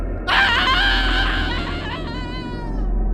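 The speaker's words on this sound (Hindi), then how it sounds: "उसी वक्त शशिकांत ने एक और दर्द भरी चीख सुनी" A pained, drawn-out scream rings out in a horror story, starting sharply, loud and close, then wavering and breaking into trembling, sobbing tones as it fades.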